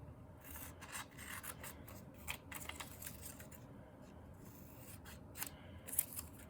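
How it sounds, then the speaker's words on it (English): Scissors cutting out triangle shapes from paper, a steady run of close, quiet snipping and rustling strokes with no talk. "I'm going to just cut one of them out to show you how each piece is equal."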